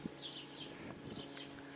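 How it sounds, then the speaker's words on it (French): Birds chirp and call faintly from trees and rooftops around a permaculture vegetable garden, with scattered thin tweets over a steady quiet background hum. "les oiseaux, ils sont très très nombreux, quoi"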